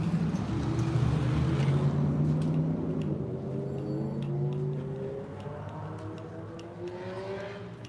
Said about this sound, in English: There's this loud engine out there.